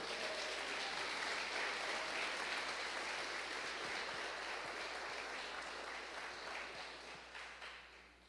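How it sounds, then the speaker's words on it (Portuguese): Congregation at a Brazilian church service clapping for Jesus: a faint, continuous wash of many hands clapping, sounding distant and steady before slowly tapering off. "Bate palmas para Jesus."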